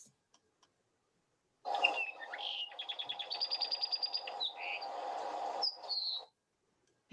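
A Hawaiian forest bird sings one continuous phrase of about four and a half seconds, clear and fairly close, with rapid trilled notes and whistled slurs, set against quiet background.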